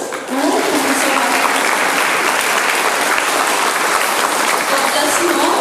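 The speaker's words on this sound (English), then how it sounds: "Can we give a clap to Thomas Jones, to Jesus, to the church, to our pastors?" An audience at a church synod gathering claps steadily and loudly, sustained applause filling the room after a brief quiet start, with voices mixed in.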